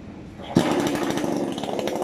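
After a brief quiet moment a 22-inch petrol chainsaw starts up abruptly and runs loudly with a buzzing, rattling whine close by.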